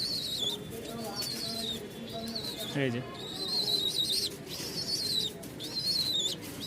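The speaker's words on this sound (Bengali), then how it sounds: "আমার কাছে মোট 4 পেয়ার কবুতর আছে" Pigeons coo low and close, mixed with repeated high chirps, while a person speaks briefly, in Mirpur-1, Dhaka.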